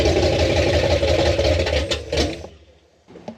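A newly fitted engine in an old farm truck runs loud and rough at idle nearby, a dense rumbling drone that cuts out and fades away near the end.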